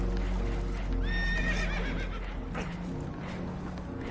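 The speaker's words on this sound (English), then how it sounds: "Horses are spooked, and we're taking on water." Spooked horses aboard a boat that is taking on water give a loud, shaky whinny over a constant rushing, rumbling background.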